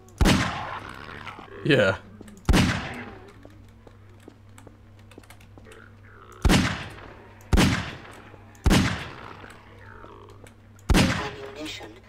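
Six or seven heavy single gunshots fired through walls in the video game Half-Life 2: Aftermath, spaced a second or more apart, each booming with a decaying tail over a low hum, with a brief spoken word.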